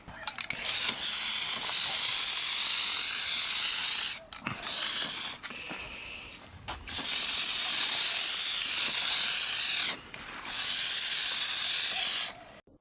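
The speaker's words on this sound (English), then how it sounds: "we've got all the parts sprayed" A spray can hisses steadily in long bursts while coating BMW E36 car parts, three sustained sprays of several seconds each with brief gaps, close and loud, no talking.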